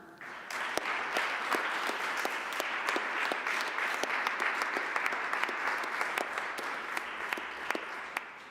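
Sustained audience applause at a university graduation ceremony in Vienna, dense clapping from many hands holding steady and fairly loud throughout with a few sharper individual claps standing out.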